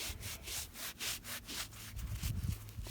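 A brush scrubs a freshly dug-up old coin from 1902 outdoors in the cold, making steady back-and-forth rasping strokes at a brisk rhythm, close and fairly quiet.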